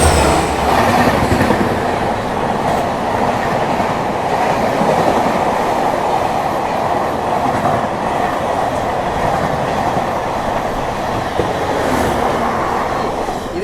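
The 16576 Mangaluru–Bengaluru Gomateshwara Express joins the Bengaluru–Hubballi main line near Chikkabanavara, heard from aboard as a loud, steady rumble with constant wheel clatter and faint squeals throughout.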